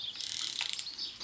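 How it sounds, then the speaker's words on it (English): A 3/8-inch torque wrench ratcheting as a nut is tightened on a Honda Valkyrie trike during a power steering install, giving a short, fast burst of fine, close metallic clicks. "I'm using my 3/8 torque wrench because the 1/2 inch doesn't go that low."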